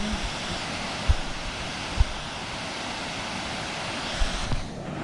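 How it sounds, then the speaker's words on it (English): Laurel Creek Falls on the Foothills Trail in autumn sends out a steady, broad rushing roar of falling water that fills the whole stretch, with a few faint clicks and knocks near the start and end. "that is Laurel Creek Falls there"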